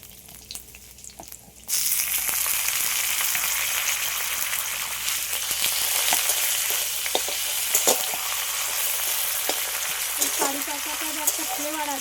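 Curry leaves hit hot oil in a frying pan with lightly fried onion or garlic, bursting into a loud, steady sizzle after a quieter start, with occasional stirring scrapes and small pops throughout.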